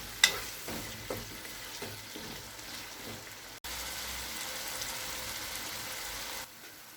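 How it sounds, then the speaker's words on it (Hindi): Potatoes fry in spices in a pan for vegetable pulao, a soft, steady sizzle with a few stirring scrapes early on, then a louder hiss after a short break, fairly quiet and close. "3 से 4 मिनट तक मसाले में आलू को अच्छे से भूनेंगे।"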